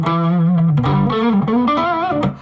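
Electric guitar played through an amp with a touch of reverb, a short melodic phrase of sustained harmonic-rich notes that ring out close and steady, with no voices.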